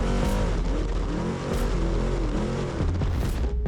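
A loud race truck engine roars steadily, its pitch rising and falling with the revs as it drives hard across desert sand in the San Felipe 250 off-road race, with rattling and road noise mixed in.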